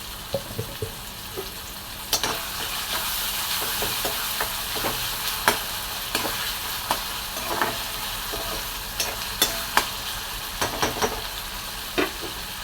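Onion and tomato fry in a pan until browned, with a continuous low sizzle and a run of sharp, irregular spatula taps and scrapes that come thicker toward the end.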